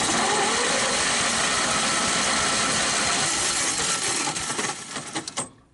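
A 1931 Ford Roadster engine turning over on the starter during a compression test, a dense steady cranking churn that holds for several seconds, then slows into a few spaced final beats and stops.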